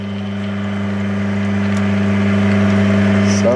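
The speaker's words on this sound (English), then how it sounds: "Lathe is set on the medium speed." Clarke CL430 metal lathe running steadily at medium speed, around 500 RPM, a close, constant motor hum with a steady tonal whine that holds unchanged throughout.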